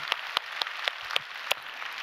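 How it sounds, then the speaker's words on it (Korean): A church congregation claps during a Sunday worship service in a large reverberant room, several sharp individual hand claps spaced irregularly over faint background noise. "우리 하나님께 영광의 박수 올려드립니다"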